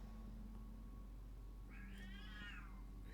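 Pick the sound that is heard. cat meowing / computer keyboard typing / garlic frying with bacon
cat meowing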